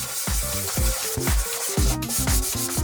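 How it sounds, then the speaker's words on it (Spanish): Steady rhythmic rasping of fine sandpaper rubbed back and forth on a cardboard surface, close up, roughly three strokes per second. "Lijamos toda la superficie con una lija fina."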